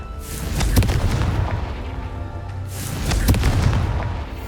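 Confringo blasting spell in Hogwarts Legacy, two loud booming explosions a few seconds apart, each with a sharp crack and a rolling low rumble that swells and fades, no talk.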